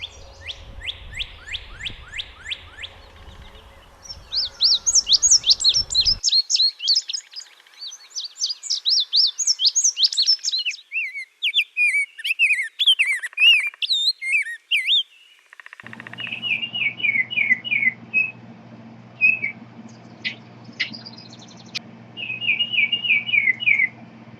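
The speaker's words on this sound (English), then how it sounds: "the quiet of winter is replaced by the songs of a multitude of birds" Springtime songbirds at a bird feeder sing one after another, bursts of chirps, trills and whistled phrases, some near and loud, others softer, with short pauses between songs.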